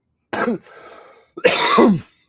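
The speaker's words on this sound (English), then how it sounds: "This cough keeps coming back." Two harsh, raspy coughs close up, a short pause between them, with a brief wheezy breath after the first.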